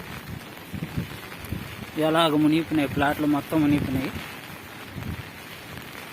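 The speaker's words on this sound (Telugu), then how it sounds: "జల్లు జల్లుగా పడుతూనే ఉంది ఉన్నట్టుండి పెద్ద జల్లు వస్తున్నాయి తర్వాత మళ్ళీ చిన్న జల్లు పడుతున్నాయి" Rain showers fall during a cyclone over flooded plots as a steady, soft hiss in the background while someone speaks in the foreground through the middle of the clip.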